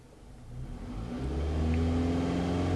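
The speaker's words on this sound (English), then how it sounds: "now I'm gonna increase the engine RPMs again." A Toyota Camry engine with a long-crank, power-loss fault revs up smoothly to around 3,000 RPM, the engine note climbing and growing louder over a few seconds, heard close with no talking.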